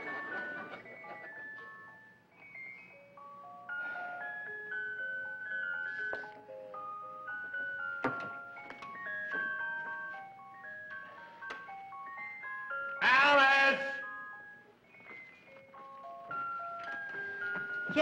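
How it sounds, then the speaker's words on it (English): An ice cream truck plays its chiming bell melody in a suburban neighborhood, a steady tinkling tune running throughout at moderate volume, interrupted briefly by a louder burst of noise partway through. "Hey, there's Mr. Johnson in his ice cream truck."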